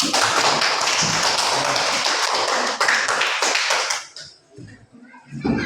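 Schoolchildren in a classroom clapping their hands together, brisk crowded claps for about four seconds that then stop abruptly, leaving near silence and a few soft taps.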